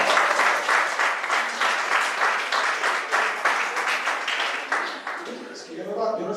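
Audience applause for a performer at a Catalan stage show, dense rhythmic clapping from a crowd that fades toward the end as a voice begins speaking.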